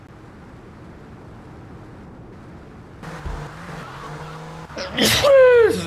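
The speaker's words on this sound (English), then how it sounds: "This is an inconvenient time to sneeze" A person sneezes loudly in the middle of a GTA3 speedrun session, a sharp burst rising over a low game rumble of car noise near the end.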